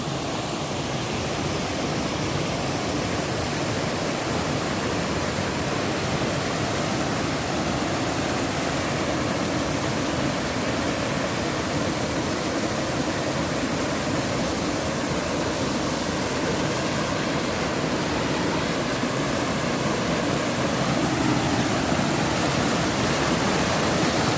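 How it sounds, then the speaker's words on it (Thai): Waterfall pouring steadily down a forest stream, a dense, loud, unbroken rush that fills the whole scene with no voices. "ชมบรรยากาศน้ำตกครับผม"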